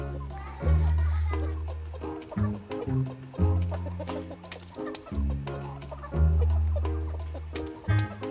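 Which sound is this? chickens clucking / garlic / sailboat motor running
chickens clucking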